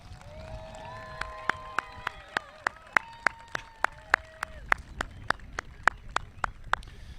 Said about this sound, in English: How about a nice round of applause for our 8th grade kids?